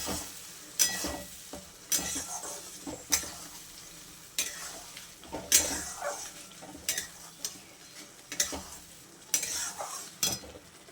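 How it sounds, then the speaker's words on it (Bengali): Mutton being stir-fried and browned in a pan for a Bengali kosha curry: repeated scraping spoon strokes and sizzling at an irregular rhythm, close and moderately loud, with no talk. "এবার এটাকে খুব ভালো করে কষিয়ে নেব।"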